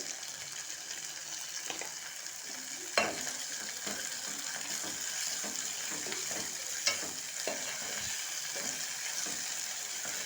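Capsicum and tomato curry fries in oil, giving a constant bright sizzle while a utensil stirs the pan with soft scrapes and a couple of sharper clinks, close and unaccompanied by speech.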